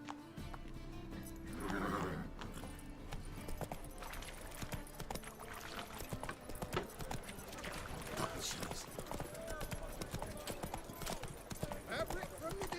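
Roach the horse trots through the open world of The Witcher 3, hooves clip-clopping steadily throughout amid game music and ambience, with voices talking over it.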